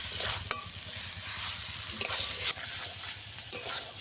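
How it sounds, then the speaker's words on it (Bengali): Fish rubbed with salt and turmeric fries in oil and spice masala, a steady close sizzle broken by a few sharp scrapes and clicks of a stirring spoon against the pan, with no talking. "এই মাছটাকে টাইম নিয়ে একটু কষিয়ে নিতে হবে"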